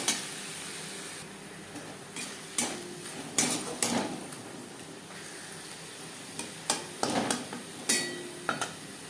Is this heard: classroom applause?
no